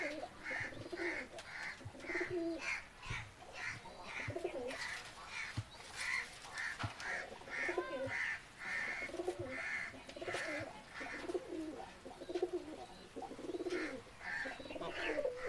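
Teddy pigeons coo in a busy pigeon market, repeated throaty coos pulsing steadily over a crowded background with scattered chirps and faint voices.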